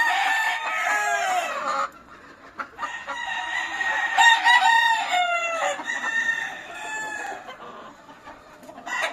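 Several roosters crow in long rising calls, with hens clucking and cackling between them, close and loud, at a Spanish fighting-cock breeding farm with no talk over the birds.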